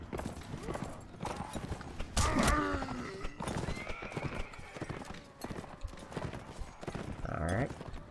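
Horses in the Mount & Blade Warband battle gallop with rapid hoof clip-clops, and loud whinnies and neighs break out now and then. Someone talks intermittently over the battle noise.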